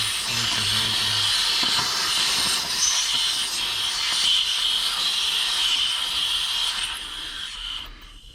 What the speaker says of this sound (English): Gotta drain your tank, man.